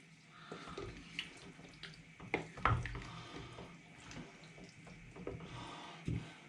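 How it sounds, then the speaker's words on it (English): Beer splashes and trickles in short uneven pours into a cooking pot for Hungarian goulash, with a few clinks and soft knocks, fairly quiet throughout. "Pour some brewski in it."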